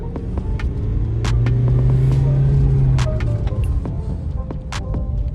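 Engine of a 2020 Mahindra Scorpio S11 with about 100,000 km, pulling in second gear: a loud, steady motor drone and rumble that swells in the middle and eases off, with a faint higher hum riding over it.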